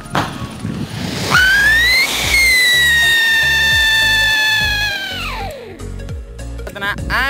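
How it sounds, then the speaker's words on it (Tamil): A Sivakasi siren firecracker shrieks into a loud rising whistle that holds steady for several seconds, then slides down and fades. Crackling bursts follow, and faint voices are heard around it. "இது வந்து சைரன் வெடி."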